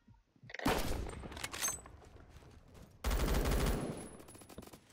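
A BFG weapon fires in the online shooter game Phantom Forces, with two loud booming blasts about two seconds apart, each trailing into a rumbling, crackling tail with no talk.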